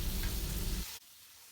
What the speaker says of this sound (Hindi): अब इस चिकन को तकरीबन 6 से 7 मिनट के लिए हम कुक करेंगे मीडियम टू हाई फ्लेम पे